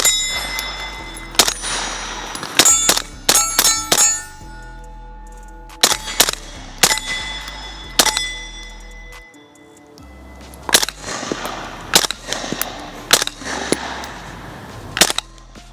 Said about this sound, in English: Going for the gong then.